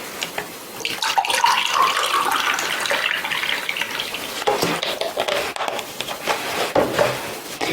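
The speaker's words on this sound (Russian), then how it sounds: "берем молоко. И тоже берем граненый стакан и наливаем в него" Milk is poured from a container into a faceted glass in a kitchen, a continuous splashing, gurgling stream that rises and wavers, with faint clinks and handling noises near the end.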